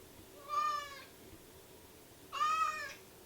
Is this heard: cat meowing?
yes